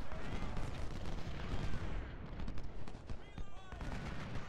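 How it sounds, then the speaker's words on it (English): Massed musket volley fire from the Ultimate General: Civil War video game rumbles and crackles continuously during the Chickamauga battle, with booming shots layered over a dense din. "Fire volley here at Betty"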